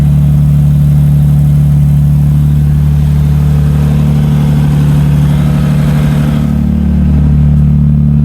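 Nissan 300ZX engine idling just after its first start following a rebuild, a loud, steady, close-up drone with deep rumbling tones that shifts slightly near the end.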